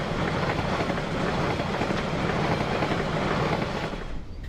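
An excursion train in New Zealand, hauled by DFB 7010 locomotive with the Capital Connection carriages, rolls past in a steady, loud rumble with a faint rhythmic clatter that eases slightly at the end.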